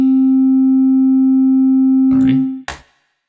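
A steady pure sine tone from a VCV Rack modular synthesizer holds one clear pitch for about two and a half seconds, then cuts off as brief bursts of noise follow.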